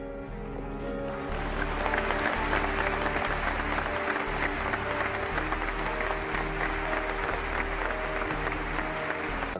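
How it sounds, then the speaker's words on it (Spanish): Members of the Mexican Congress applaud the president in a legislative chamber, a sustained, dense clapping that swells after the first second and holds steady and loud to the end, with a low hum underneath. "de los miembros del Congreso reaccionó, como siempre, aplaudiendo al presidente"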